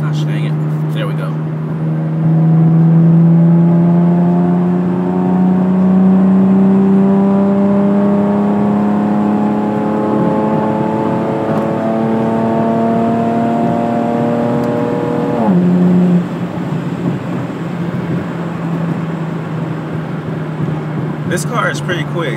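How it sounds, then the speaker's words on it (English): A Chevrolet Camaro RS engine revs and accelerates hard, its pitch climbing steadily through a long pull before an abrupt drop at a shift or lift-off, then settling into a lower drone, loud and close from inside the car. "This car is pretty quick. That wasn't even full throttle."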